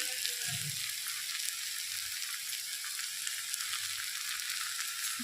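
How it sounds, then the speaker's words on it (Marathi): Onion and tomato sautéing in a pan for a tempered rice breakfast, with a steady close sizzle and a faint stir or two near the start. "कांदा टमाटो सगळं चांगलं परतून झालं"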